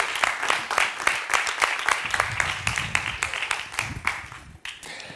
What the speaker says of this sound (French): Mesdames et messieurs, je demande à l'applaudir Mike Arms.